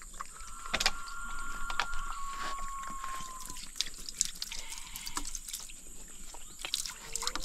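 Water poured into a container for an animal to drink, a soft trickle and splash close by with faint dripping. The scene is otherwise quiet.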